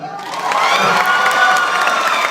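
Stand-up comedy audience in Aceh cheering, whooping and clapping after a call for Javanese people to applaud, a loud sustained crowd roar starting abruptly and holding steady.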